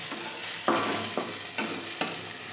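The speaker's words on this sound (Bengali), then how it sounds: "কলমি শাক দিয়ে দেওয়ার পর এখন 3-4 মিনিট ধরে আমি সেইটি ভাজা করে নেব" Water spinach (kolmi shak) frying in a pan over medium heat with onion, garlic and green chilli, giving a steady close sizzle with a few scraping stir strokes at intervals.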